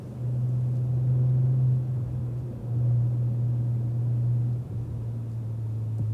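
A Cadillac ATS-V rolls slowly into the pit lane at Circuit of the Americas, its engine a low, steady drone that swells and eases a few times, heard from inside the car with no talk.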